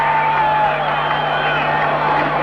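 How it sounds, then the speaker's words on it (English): Crowd noise from fans at a 1986 NFL football game between the Indianapolis Colts and the Los Angeles Raiders, a steady, dense roar of cheering that holds throughout with no clear break or peak. "The crowd back in the ballgame."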